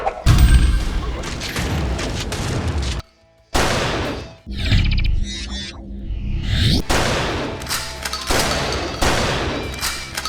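A shotgun fires repeatedly in a 90s-style first-person shooter game: a string of loud, punchy blasts, each with a short crashing tail, and a few brief silent gaps between the bursts.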